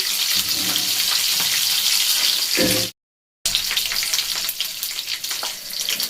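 Half a spoon of panch phoron whole spices hitting hot oil in a pan while cooking a winter-vegetable shukto, giving a loud steady sizzle that breaks off briefly and returns, crackling and hissing close up with no talk.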